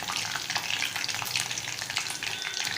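Mushroom lollipops fry in hot oil in a kadhai over a low gas flame, giving a close, steady, hissing sizzle with light bubbling crackle throughout and no voices.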